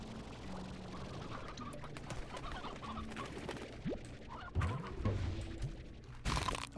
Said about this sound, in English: Oh wait, there's chickens up there.